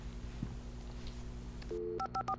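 A telephone is dialed in the video game Alan Wake: a short run of distinct push-button tones beeps out in quick succession over a low, steady background hum, with no talking.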